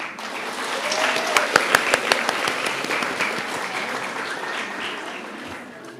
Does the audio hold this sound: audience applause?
yes